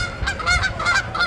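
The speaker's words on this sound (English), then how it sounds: "Got a little flyby there by our Canada geese." Canada geese flying overhead at a zoo, honking in a quick series of repeated nasal calls, close and clear over a soft background.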